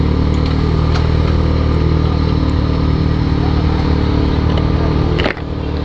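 A Yamaha XJ6 motorcycle's engine running loud and close, a sustained raspy roar that cuts off sharply near the end, with no talk.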